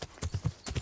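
Horse hooves clip-clop in the video game Kingdom Come: Deliverance, about five quick, evenly spaced hoofbeats heard close and clear, with no speech.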